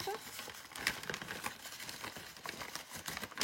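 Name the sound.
putting paper items back into an envelope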